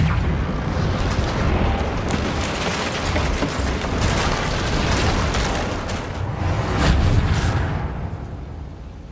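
A Reparo spell mending a broken bridge in the video game Hogwarts Legacy, a loud continuous rumbling crackle of rubble and magic that swells near the end and then fades.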